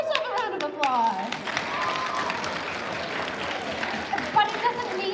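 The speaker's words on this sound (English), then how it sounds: "Give yourself a round of applause." Theater audience claps warmly during a sing-along musical, an even stretch of applause near the listener, with voices and singing-like tones sounding over it at the start and end.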